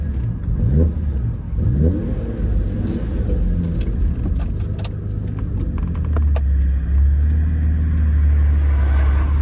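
A Jaguar XJS V12 drives on the road, its engine a steady, loud low rumble that swells as it accelerates, with a faint metallic jingle of keys near the start. No one speaks.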